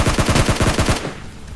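Automatic gunfire in PUBG Mobile Lite rattles off as a fast, loud burst of about a dozen rapid shots, then cuts to quieter game ambience for the last half second.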